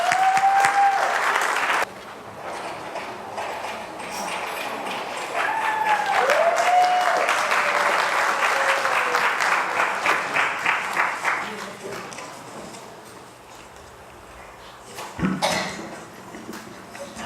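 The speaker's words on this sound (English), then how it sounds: "Let's give Edna a big round of applause" At the 2018 Windsor Senior Talent Show, an audience breaks into a warm round of applause after a voice introduces the next act, clapping steadily for several seconds before it thins out and fades.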